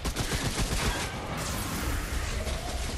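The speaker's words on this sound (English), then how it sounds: "Yeah, ricochet rifle." Ricochet rifle shots in Remnant: From The Ashes during a boss fight, heard as a dense, crackling barrage of loud reports and impacts that goes on without a break.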